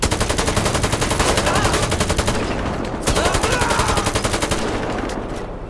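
Rapid automatic gunfire from a weapon in the video game GTA V, loud and close, with sustained bursts of shots broken by a short pause near the middle.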